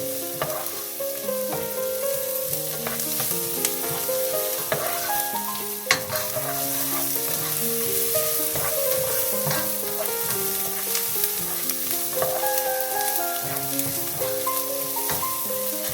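Aromatics fry and are stirred in a pan for spaghetti, giving a continuous sizzle with occasional utensil scrapes under steady background music throughout.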